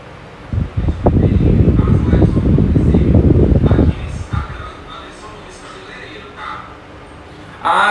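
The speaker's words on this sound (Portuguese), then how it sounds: "É o ventilador, porque eu não quis ligar o ar" An electric fan runs near the microphone during a live stream, a loud rushing, blowing roar for about three seconds that then drops to a quieter hiss.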